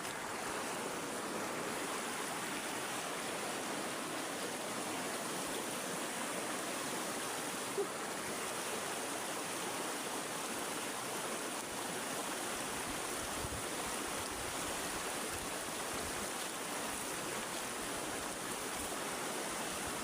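Mountain stream water flows steadily in a continuous broadband rush, close and fairly loud, with no talking over it.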